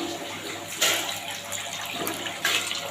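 Water poured into a cooking pan with potatoes while making a Bengali prawn malaikari, a continuous splashing rush with a couple of brief louder surges.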